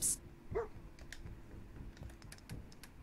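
A dog barks once in the Fallout 4 video game, a short, clear yelp near the start, followed by quiet game ambience with faint clicks and soft thuds.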